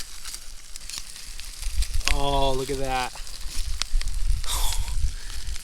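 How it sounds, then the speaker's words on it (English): Butter bubbling and sizzling while trout cooks by a creek, a soft continuous crackle under a man's exclamations and brief voice. "You got the butter bubbling in there."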